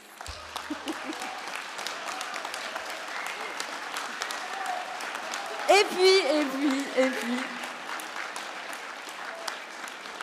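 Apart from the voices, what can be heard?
audience applause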